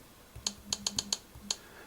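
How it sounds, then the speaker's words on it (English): Typing on the touchscreen keyboard of a Samsung Galaxy Note Pro 12.2 tablet: six or seven light, sharp taps at uneven spacing, faint and close, in a quiet room. "I can't just look up only at what I'm typing here"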